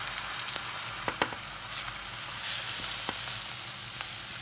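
Kaygana egg batter spread in a hot pan sizzles steadily and close, a continuous crackling hiss with a few sharp spatula taps and scrapes, no voices.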